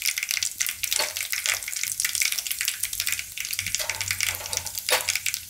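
Cumin seeds and dried red chilies sizzle loudly in hot oil, a steady close crackling hiss with occasional spattering bursts, no voices over it.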